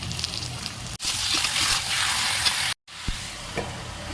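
Chicken frying with ginger-garlic paste and onion makes a loud, close sizzle broken by a sharp gap, with occasional stirring clinks and scrapes and no talking.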